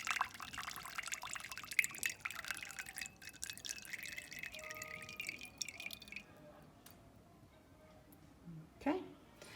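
Excess water draining from a spouted displacement can into a measuring cylinder: close, irregular dripping and trickling for several seconds under quiet speech, then thinning to a few faint drips with a brief louder splash near the end.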